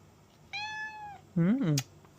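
Two drawn-out meows from a nearby cat, the second louder and rising then falling, in an otherwise quiet room.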